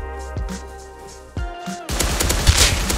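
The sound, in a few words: MP5 gunfire in the video game Rust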